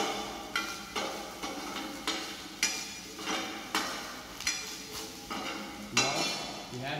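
A spoon stirs meat bolognese sauce seasoned with black pepper in a pan for lasagna, producing a steady run of rhythmic scraping knocks against the metal, roughly two per second, over a faint sizzle.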